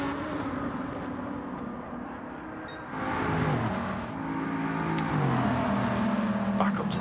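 Lamborghini race cars in a video game race broadcast, engines droning loud and continuous with revs rising and shifting as the cars run close together, a commentator talking over the engine noise throughout.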